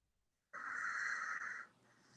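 A sleeping man gives one long, raspy snoring breath, loud and close, starting abruptly after silence and fading into quieter breathy noise.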